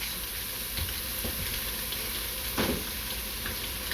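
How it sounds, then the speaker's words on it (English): Pork fries in a pan with a continuous close sizzle and hiss, broken by a few soft utensil taps and one brief louder stir. "we'll go ahead and throw the pork into this pan"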